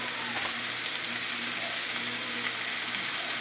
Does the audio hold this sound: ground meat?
yes